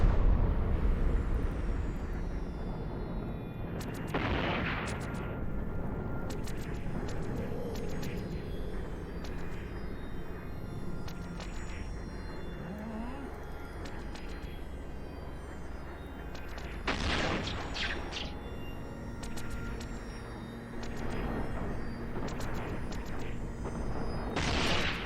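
Space combat against a missile battery in EVE Online, a rumbling background punctuated by several loud booming blasts and crackling weapon bursts at irregular intervals, with no talking.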